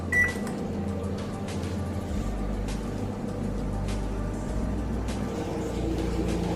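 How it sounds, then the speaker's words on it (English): Microwave oven running to melt cupcake ingredients, a steady low hum with a faint tonal drone that continues evenly throughout, with no talking. "I will microwave it for the 10 seconds"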